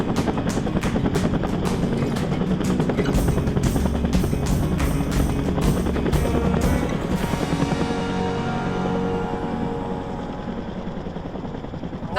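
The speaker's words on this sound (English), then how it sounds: "So the helicopter's coming that way" A STARS rescue helicopter approaches over an island, its rotor thumping loud and close in a steady rapid beat that softens and smooths out toward the end.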